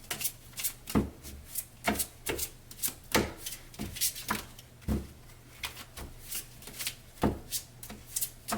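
Tarot deck being shuffled, a steady run of crisp papery riffles and soft slaps repeating about twice a second, close and fairly quiet with no voices.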